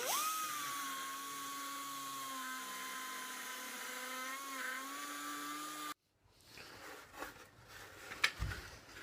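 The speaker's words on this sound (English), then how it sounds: "so ground out the holes with a little die grinder" A small die grinder enlarges holes in a part for a BMW R80 cafe racer project, a steady high-pitched whine close by for about six seconds before it cuts off, followed by faint handling clatter.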